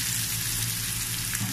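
Onions frying in a hot pan give off a steady, close hiss of sizzling that runs evenly without pause.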